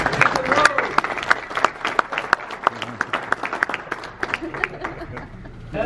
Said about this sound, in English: Hey, how about a big round of applause?